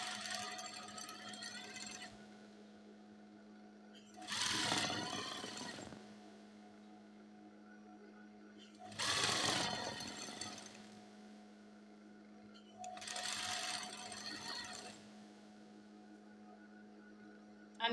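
A sewing machine stitches gathers in fabric for a skirt in three bursts of about two seconds each, a close whirring chatter with quiet pauses between runs.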